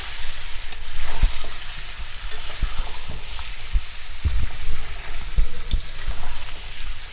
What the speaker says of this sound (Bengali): এর পাশে বড় গোস্তটাও কষিয়ে নিচ্ছি কয়েকটা কাঁঠালের বিচিও দিয়ে দিয়েছি